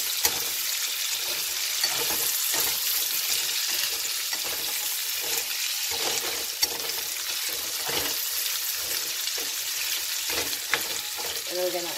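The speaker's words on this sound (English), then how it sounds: "I'm adding my potatoes and onions. And I'm just gonna give them a quick toss in the grease." Potatoes and onions tossed in hot grease in a pan give a loud, continuous close-up sizzle with crackling pops, and occasional stirring scrapes stand out above the steady frying hiss.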